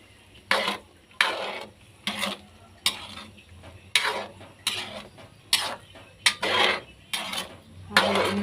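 Sautéed bottle gourd (ginisang opo) is stirred in a pan, a spatula scraping and clinking against the metal in a steady rhythm of about a dozen strokes over a faint sizzle.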